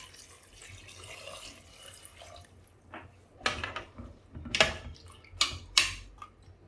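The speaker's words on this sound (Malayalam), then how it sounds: "ഇനി നമുക്ക് ആവശ്യത്തിനുള്ള വെള്ളം ഒഴിച്ചു കൊടുക്കാം." Water is poured into a pressure cooker holding beetroot curry, giving several splashing bursts that grow louder, fairly close in a quiet kitchen.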